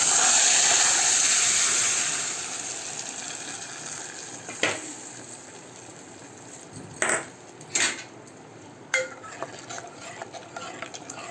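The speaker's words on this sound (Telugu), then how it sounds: "తాలింపు అయితే వేస్తున్నాను" A loud sizzle of spices tempering in hot ghee for cucumber-tomato dal bursts up at the start and fades within a couple of seconds, followed by faint frying and a few sharp clinks of a spoon against the pan.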